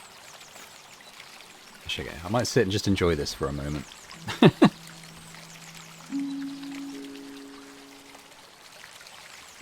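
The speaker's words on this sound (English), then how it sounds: "It's a rather lovely little water feature" A small water feature trickles and pours in the cozy plant puzzle game Botany Manor, a soft running sound beneath a man's speech, followed by a few sustained chime-like tones.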